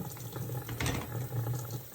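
Steady hot water from a tap splashes continuously into a sink for washing dishes, a close, even rush with no voices.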